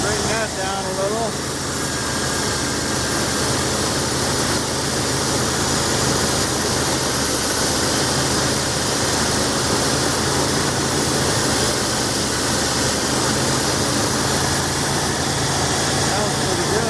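A 1981 Ford Ranger's 300 inline-six runs at a steady, loud drone that holds unbroken throughout, its low rumble and broad hiss continuous with no sharp changes.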